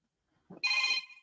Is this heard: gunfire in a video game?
no